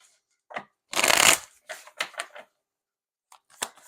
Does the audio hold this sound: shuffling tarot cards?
yes